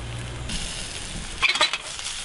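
Cod fillets fry in a pan with a steady sizzle, followed by a brief burst of scraping and clinking from a utensil against the pan near the end.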